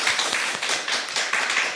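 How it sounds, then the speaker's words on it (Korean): A church congregation claps in welcome for newcomers at a Sunday service, a dense burst of many hands applauding together, steady and close throughout. "우리 박수로 환영하도록 하겠습니다"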